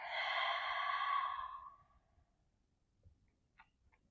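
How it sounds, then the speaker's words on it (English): During a gentle vinyasa yoga flow, one long, audible exhale sighs out close to the listener and fades into near silence, followed by a few faint clicks. "Breathing here."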